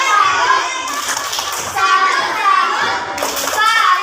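A group of children in a classroom claps and chants together in rhythmic bursts, their voices loud and close throughout.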